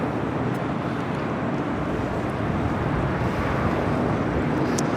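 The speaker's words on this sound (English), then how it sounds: "This is Emirates Flight 216 taking off to Dubai on the A380." Steady, broad roar of an Emirates Airbus A380 taking off at a busy airport, a dense and continuous rumble heard from a distance that holds level throughout without any voices.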